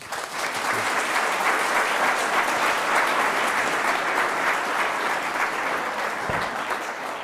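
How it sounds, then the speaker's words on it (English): An audience at a University of Chicago Institute of Politics event welcomes speakers with sustained, dense applause that holds at an even level for several seconds before thinning slightly. "please join me in welcoming Jeffrey Goldberg and Rachel Bronson with a warm round of applause"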